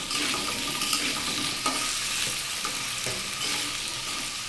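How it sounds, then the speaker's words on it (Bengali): Salted potatoes are sautéed in a pan for a vegetarian potato and soybean curry, giving a constant close sizzle with intermittent scraping stirs and no voices. "আলুটাকে বেশ অনেক সময় ধরে কষিয়ে নিতে হবে।"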